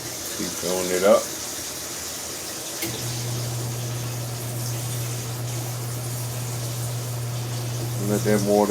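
Water runs steadily into a portable washing machine as it fills, a continuous rushing flow with a low hum beneath. A person speaks briefly at the start and again near the end.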